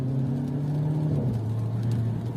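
A 2016 Mercedes C180 accelerates with its turbo engine held at high revs. A steady droning engine tone with a low hum carries throughout, its pitch shifting slightly as the car pulls.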